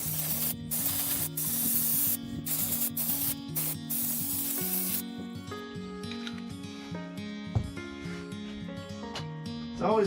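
Carbon choke cleaner sprays onto parts from a Kohler Pro 23 horsepower V-twin engine during a head gasket job, a series of loud hissing bursts in short on-off pulses, followed by quieter dripping and clinking.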